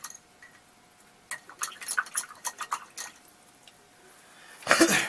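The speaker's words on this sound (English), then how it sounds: "Now I'm going to rinse the brush." A paint brush is swished and rinsed in a water cup during acrylic painting, giving a cluster of small close splashy drips and clinks, ending in a louder slosh.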